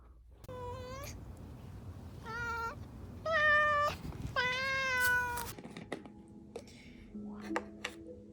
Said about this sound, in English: This is the cutest kitty cat.